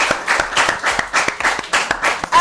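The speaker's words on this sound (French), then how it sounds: "Applaudissez pour Océane." Audience applauding a child on a kids' talent show, many hands clapping in a steady, fairly loud burst with individual claps standing out, lasting a couple of seconds.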